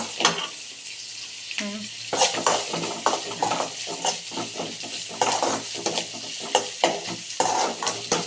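Onions stirred and frying in a mix of ghee and oil, with a steady sizzle broken by repeated scraping stirs and light clinks of a utensil against the pan, close and fairly loud, with no talking.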